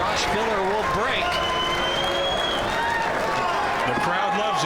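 A crowd applauds and cheers at a Mosconi Cup pool match, with loud sustained clapping and whistles while a commentator talks over it.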